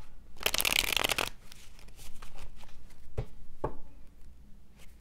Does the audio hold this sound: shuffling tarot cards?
yes